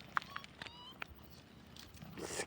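A cat gives several short, faint meows in quick succession outdoors, with quiet rustling and low background noise between them.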